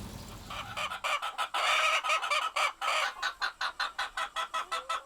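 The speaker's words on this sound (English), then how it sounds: "American Leghorn, strutting and softly clucking, is also busy." American Leghorn chickens on a working farm cluck and strut, a burst of busy fowl calls giving way to a steady run of short, evenly spaced clucks, close and fairly loud with no talking.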